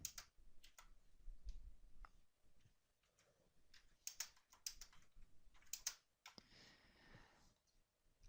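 Quiet, close typing on a computer keyboard, with irregular bursts of clicking keystrokes separated by short pauses and a few heavier key presses.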